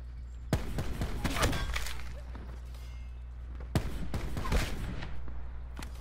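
Heavy sniper-style rifle shots in Black Ops 4 on the Militia map, a few sharp, loud reports with ringing echoing tails spaced seconds apart against quiet low background hum.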